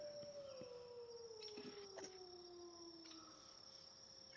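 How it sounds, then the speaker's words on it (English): A faint, drawn-out howl slowly falls in pitch over a steady high insect-like drone, with a few soft distant clicks and knocks, as ambient sound during a tabletop game session. "Hear a few howls let loose among them."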